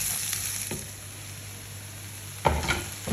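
Cut sweet potato pieces being stirred in a frying pan for a dry fasting-style side dish, with a low steady sizzle and a couple of brief scraping stirs, the louder one near the end; no talking.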